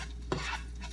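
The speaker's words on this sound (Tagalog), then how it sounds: "Ayun, nilagay ko na po ang luya. Stir fry lang siya ng konti" Ginger stir-fried in a pan, one short scrape of a utensil against the pan over a faint steady sizzle, close and fairly quiet.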